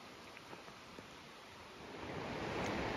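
Water of the McLeod River rushing as a constant hiss, faint at first and swelling louder as it draws nearer, with a few small knocks early on.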